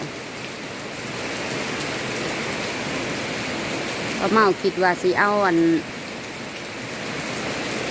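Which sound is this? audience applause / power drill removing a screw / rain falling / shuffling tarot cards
rain falling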